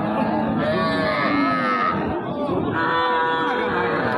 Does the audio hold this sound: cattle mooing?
yes